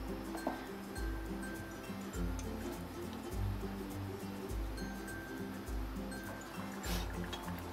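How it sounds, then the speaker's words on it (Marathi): A pot of Maharashtrian potato curry (batatyache kalvan) simmers at a boil, with soft, uneven bubbling and low plopping thumps that recur through a quiet kitchen with no speech. "हे कालवण चांगलं उकळून देते"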